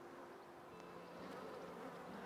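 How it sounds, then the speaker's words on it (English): Agitated honeybees flying up from a failing hive, a continuous soft buzzing drone from many insects, close and steady but quiet, with no voices. "the bees are sort of, they're not aggressive, but they are flying up a bit more than the others, a bit more agitated"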